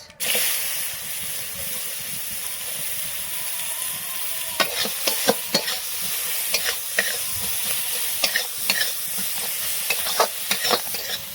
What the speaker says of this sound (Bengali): এই কড়াইতে দিয়ে দেব তেল